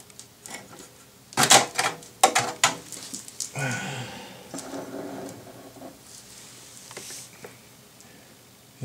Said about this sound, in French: on va d'abord enlever la carte graphique